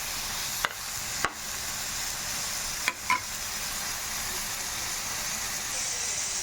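Chopped tomatoes and spinach cooking in oil, a steady soft sizzle with a few sharp clinks of a spoon against the pan.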